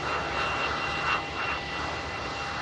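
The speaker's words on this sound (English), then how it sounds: "The British Airways shuttle service just taxiing past us as well. Airbus A319." A British Airways Airbus A319 taxis at Manchester Airport, its jet engines giving a steady, moderately distant whine and rumble that swells slightly midway, with no talk over it.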